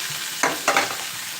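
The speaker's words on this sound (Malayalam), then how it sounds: "ഉള്ളി കൊടുക്കാം ഇഞ്ചി വെളുത്തുള്ളി സവാള കൊടുക്കാം" Onion, ginger, garlic and shallot frying in a pan, a steady close sizzle broken by two brief scraping stirs; no one speaks.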